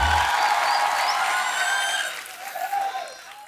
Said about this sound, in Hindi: आप सबकी जोरदार तालियों के बीच इनवाइट करना चाहूंगा the very talented Arjun Kapoor and beautiful Shraddha Kapoor